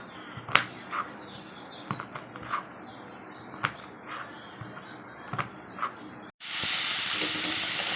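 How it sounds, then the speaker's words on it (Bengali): Potatoes and long beans hit hot oil in a home kitchen. Quieter clatter and soft knocks come first, then a sudden, loud, steady sizzle rushes in and holds to the end. "আলু আর বরবটি ভাজা হবে"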